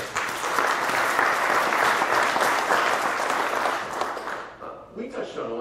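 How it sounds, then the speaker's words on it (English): A crowd at a business workshop closing claps loudly and steadily for several seconds, the applause fading out before a voice begins speaking. "you deserve a round of applause"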